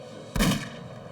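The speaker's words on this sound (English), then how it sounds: "stirred awake by the gunshots" A single sharp .22 caliber rifle gunshot cracks out nearby, followed by a short rumbling echo over faint background hiss.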